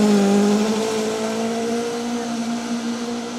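A Vauxhall Avenger rally car passes on a gravel forest stage of the Wyedean Rally, its engine loud and near at first, then pitch dropping and fading steadily as it pulls away.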